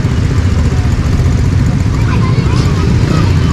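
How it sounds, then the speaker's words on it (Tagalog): Dense street traffic on a congested road heading toward Recto near Dragon 8 Mall, with a steady broadband rumble of idling and slow-moving cars and motorcycles and a low babble of voices, continuous and loud throughout. "Ang traffic na, tingnan nyo naman, oh."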